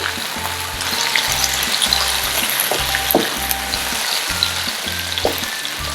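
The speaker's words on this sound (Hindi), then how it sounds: "दो मिनट तक इनको फ्राई करेंगे।" Capsicum and onion frying in hot oil for chicken jalfrezi give a steady, close sizzle that runs unbroken, with occasional light clinks of stirring.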